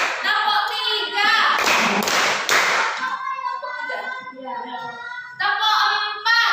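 Bursts of group hand clapping arrive in short rhythmic sets as an Indonesian counting-clap icebreaker, between voices calling out, with a child-like crowd chattering around them.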